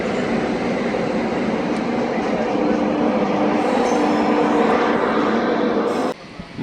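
A Kacheguda-Nadikudi DEMU train pulling away from Nalgonda station, its steady loud rumble of engine and rolling coaches filling the scene close up without pause, ending with a sudden drop near the end.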